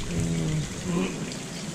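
Rain falls steadily during river carp fishing, a dense close hiss of drops with a voice talking briefly over it.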